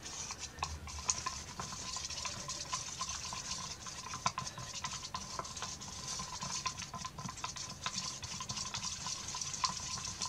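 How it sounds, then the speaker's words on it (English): Mod Podge and paint being stirred together in a cup, a steady close scraping and swishing that continues without a break, the utensil tapping and rasping against the sides. "Get that mixed up really good so we don't see the white Mod Podge in there."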